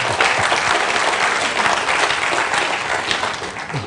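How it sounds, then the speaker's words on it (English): Applause from the audience at a book launch, dense and continuous clapping from a full room for a few seconds, loud and even throughout. "a round of applause."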